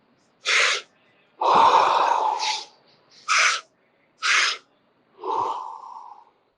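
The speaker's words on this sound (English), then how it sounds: "Keep breathing into the sensation." Deep rhythmic breaths during a breathwork session, several distinct inhales and exhales alternating with short pauses, close and fairly loud with no talking.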